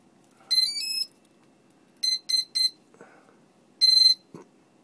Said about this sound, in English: I think those beeps are good.